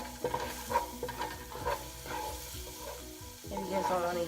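Garlic cooking in oil in a pot over low-medium heat, with a steady soft sizzle under repeated scraping and stirring clatter from a utensil against the pot.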